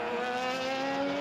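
A West WX10 race car limps around at the back of the field on the opening lap, its engine sounding unhealthy: a steady, rough harmonic drone held throughout, fairly close and with no talk over it.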